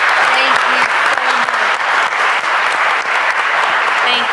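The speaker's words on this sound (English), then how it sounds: "if we could just give them a huge round of applause" Audience at a Justice Department summit on combating human trafficking applauding a panel, loud continuous clapping that stays even throughout.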